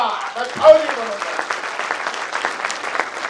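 A large audience at a public address by a Badlapur legislator breaks into loud, sustained applause, the clapping dense and even throughout, with a brief voice near the start.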